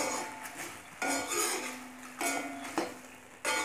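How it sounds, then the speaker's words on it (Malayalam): Papadam thoran is stirred in a pan, with four or five distinct scraping, clinking strokes of a spoon against the metal, each followed by a short pause and no voices. "എന്നിട്ട് നന്നായിട്ട് ഇളക്കി യോജിപ്പിക്കുക."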